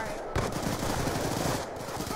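Rapid automatic gunfire from the Roblox game Jailbreak rattles on in a dense, unbroken barrage, loud and close, with no real pause across the stretch.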